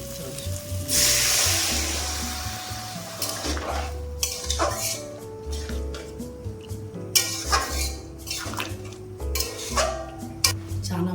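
Spice masala heats and sizzles in an iron kadai while a spoon stirs and scrapes against the pan, with metallic clinks and a steady frying hiss close by, no talk.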